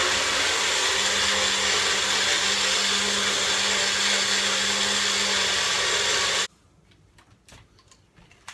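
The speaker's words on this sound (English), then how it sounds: "We're gonna put this baby through the magic bullet. We're gonna mix this all up." A Magic Bullet blender whirs loudly and steadily, mixing a green tea drink for about six seconds before cutting off abruptly, leaving a quiet room with faint clicks.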